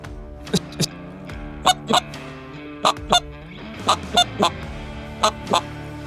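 Short honking calls imitating greylag and bean geese, blown on a "Tundra" bean goose decoy call, come in quick pairs, about six doublets spaced evenly, close and clear.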